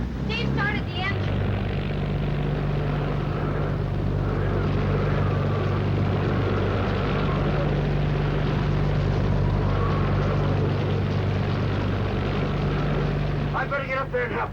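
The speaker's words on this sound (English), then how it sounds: "started the engine" Drowned out by a hurricane, a boat engine drones steadily in a low, continuous rumble with a constant hum throughout, while voices speak briefly at the start and the end.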